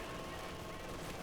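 MG42 machine gun fire in the Company of Heroes 2 strategy game: a dense, continuous roar of rapid gunfire and battle noise, loud and unbroken throughout.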